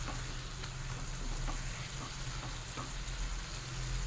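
Kulfi greens and prawns fry in a pan over low flame, giving a soft, continuous sizzle with faint crackles and stirring sounds throughout, close and fairly quiet.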